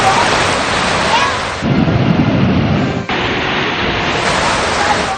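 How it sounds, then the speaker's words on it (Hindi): Heavy storm rain pours steadily during thunderstorms in Balochistan, a dense continuous roar with deep rumbling swells that may be thunder, and a brief break in the middle. "बलोचिस्तान के कई इलाकों में बादल जमकर बरसे।"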